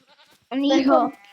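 A sheep lets out one loud, wavering bleat up close, after a few faint voices.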